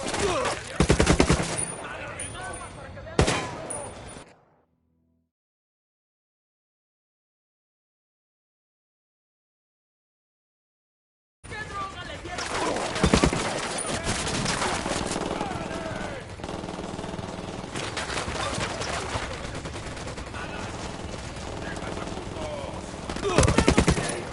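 Rapid bursts of machine-gun fire and scattered shots from a PS4 shooter game, loud and dense, cutting out into several seconds of silence before heavy sustained gunfire resumes.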